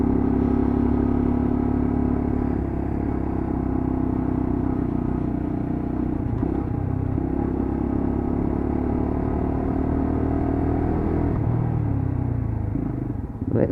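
A Lexmoto LXR 125cc motorcycle riding along a road, its engine droning steadily and loudly up close throughout with a constant low rumble, pitch shifting slightly near the end.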